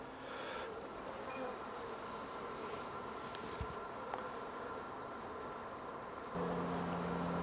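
Honey bees buzzing at an opened hive: a steady, faint hum of many insects close by, continuous for several seconds and slightly louder at the end.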